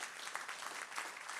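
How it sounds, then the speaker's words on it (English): Audience applause at a Vancouver economic talent development event, a steady dense wash of clapping from a crowd, loud and even through the short span. "A round of applause for those guys."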